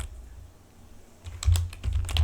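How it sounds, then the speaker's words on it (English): Typing on a computer keyboard, a quiet stretch then bursts of close, crisp keystrokes in quick irregular runs. "Let me just type in here"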